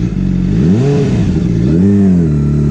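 A Honda CBR 600RR sport motorcycle, track-tuned and reworked for city riding, revs hard twice in quick succession, its engine pitch rising and falling over a loud, continuous close-up growl.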